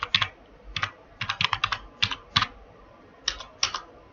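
Computer keyboard typing while entering data in Tally accounting software, close and crisp key clicks in short bursts with brief pauses between, no voices.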